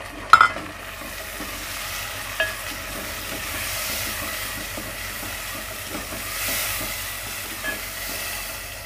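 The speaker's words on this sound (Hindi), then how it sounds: "इकट्ठा ही इसको इसमें डाल देंगे।" Chopped tomatoes and green chillies dropped into frying turai sabzi, with a couple of sharp clatters at the start, then a steady, moderate sizzle that swells and fades slightly.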